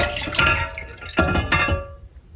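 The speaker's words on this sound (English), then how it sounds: "So we're going to pour out this water." Water pours and splashes in two bursts with a pause between while making homemade butter, then trails off into quiet; no one speaks.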